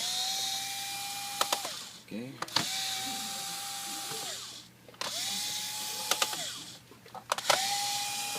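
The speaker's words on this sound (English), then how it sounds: "Okay, I'm using my drill." A power drill backs screws out of the cover of a Samsung NP300E5C laptop, four close whirring bursts that rise and hold steady before stopping, with brief clicks and a short spoken word between them.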